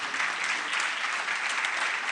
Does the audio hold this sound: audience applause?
yes